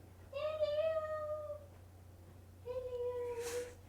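A house cat gives two drawn-out meows, the second one after a pause, heard fairly close and clear over a low hum.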